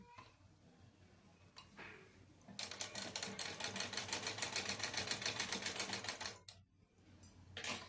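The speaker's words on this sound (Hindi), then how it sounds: "अब इसे हम लोग तिरछा सिलाई कर देंगे।" Sewing machine runs a diagonal stitch along a choli-cut katori blouse, starting after a few quiet handling sounds and then a fast, even rattling whir for several seconds, pausing briefly before starting again, close by.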